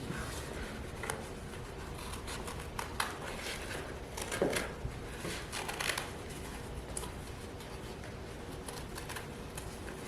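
Scissors cutting out a fabric eye shape, a steady series of close, soft snips and rustles over a constant background hiss.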